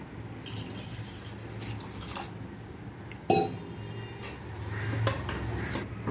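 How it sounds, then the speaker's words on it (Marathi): Water pours and splashes softly into a pan of paneer cashew masala, quiet and close, with a sharp clink of metal partway through. "आणखीन थोडं पाणी घालायचं।"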